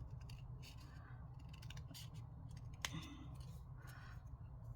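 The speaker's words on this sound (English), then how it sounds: "I was supposed to trim it down, so I'm going to trim it down a little bit" Paper is trimmed by hand with scissors in repeated soft snips and rustles, close by and fairly quiet.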